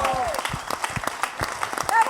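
Audience at a comedy roast breaking into applause, a short burst of clapping mixed with a voice speaking over it and a rising cheer or call toward the end.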